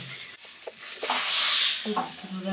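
Food frying in a pan during home cooking, a sizzling hiss that swells to a broad, loud crackle midway, with scrapes and short voice fragments around it.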